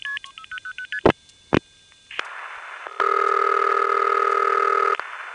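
Vesey Tandem 2 crossbar switch sending loud MF outpulsing: after a run of short dialing tones and two sharp clicks, a steady multifrequency tone pair sounds loud and close, alone for about two seconds, without voices.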